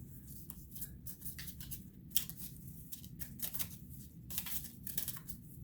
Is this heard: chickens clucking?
no